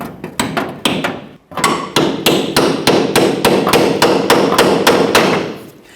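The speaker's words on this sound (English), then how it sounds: "You may have to tap it right on through there with a hammer." A metal hammer taps a bolt through leaf spring support brackets on a 1999-2006 Chevrolet Silverado 1500: about twenty sharp, ringing strikes in an even rhythm, close and loud, with a brief pause early on.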